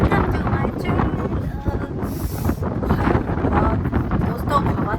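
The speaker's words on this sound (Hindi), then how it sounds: "दोस्तों हवा चल रही है बहुत ज़्यादा तेज" Strong wind blowing hard outdoors at a home in Japan, a steady roaring rush buffeting the microphone throughout, loud and close, with no words spoken over it.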